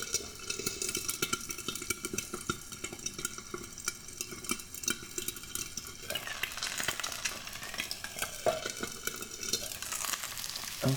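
An egg topped with cheese sizzles and crackles in a frying pan, a close, constant fry with scattered pops and a few soft scraping sounds, no voices over it.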